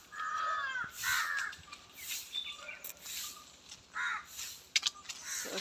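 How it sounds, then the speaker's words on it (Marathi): Several crows caw loudly in a village setting, harsh repeated calls arriving in irregular bursts close by, with no talking. "टायमार आनी कावळ्या आरडटात, आयकूंक येता तुमकां आवाज."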